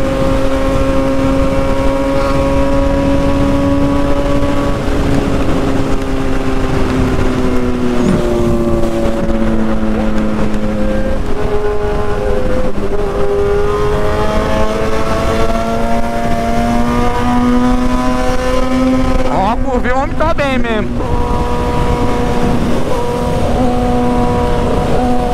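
Honda Hornet motorcycle ridden at night in a group convoy, a steady loud engine drone with shifting pitch as it accelerates and eases off, one sharp rising rev burst near the end, no talking.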